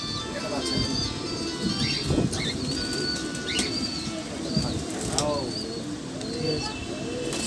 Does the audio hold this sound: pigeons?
yes